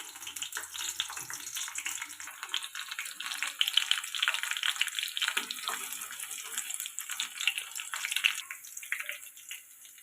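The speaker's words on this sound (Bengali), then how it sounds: "এবার দিয়ে দিব রসুনটা একটু লাল লাল ভাজা হয়ে গেছে।" Garlic sizzles in hot oil in a wok while frying for momo filling, giving a steady, crackling hiss with scattered pops, close and continuous.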